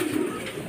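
A racing pigeon makes a brief soft coo on arriving at the loft during a club fun race, a single low murmur lasting under a second, close and alone.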